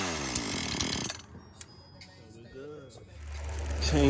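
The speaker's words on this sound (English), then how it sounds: "Chainsaw number 3." A repaired chainsaw running loudly with a buzzing, rattling engine note for about a second, then dropping to a lower idle before revving back up near the end.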